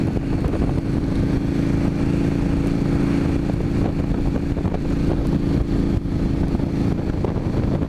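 A KTM 1290 or Indian FTR 1200 motorcycle engine runs loud and close, a steady, dense drone with no pauses throughout.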